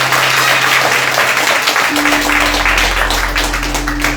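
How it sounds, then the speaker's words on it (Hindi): A church congregation at a Hindi-language Christian service bursts into sustained applause that stays loud and dense throughout. A steady electrical hum runs underneath. "एक ताली अपने लिए बजा दीजिए।"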